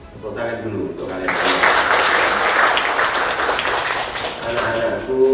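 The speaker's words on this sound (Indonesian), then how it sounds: "Tepuk tangan dulu untuk kalian." Students at a vocational school anti-corruption session burst into applause after a short stretch of speech, the clapping rising quickly, staying full and busy for several seconds, then tapering slightly under a voice.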